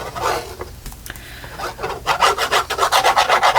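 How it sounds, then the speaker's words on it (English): A glue tube's metal tip rubs and scrapes along a writing board, giving a close, dry rasping that turns into a steady rhythmic series of strokes toward the end. "Listen to that gluing noise."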